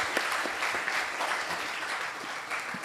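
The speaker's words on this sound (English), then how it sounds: "please another applause for our speaker" An audience at an international academic conference claps for a speaker, a fairly faint, even patter of many hands that holds steady from start to finish.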